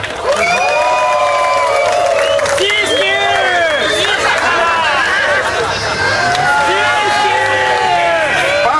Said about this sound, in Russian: Дівчині аплодисменти.